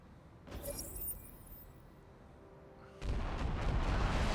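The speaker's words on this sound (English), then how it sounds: "Artillery will blow up there" Artillery shells going off in the Battletech video game, a burst of rumbling impacts early on, then a dense, sustained roar of distant blasts rising to a louder level toward the end.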